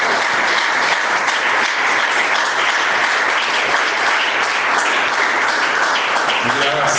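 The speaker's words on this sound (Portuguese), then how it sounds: "Pode adorar a Deus com as palmas" A church congregation clapping during worship, a dense, loud wash of continuous applause from many hands filling the room, with voices mixed in underneath.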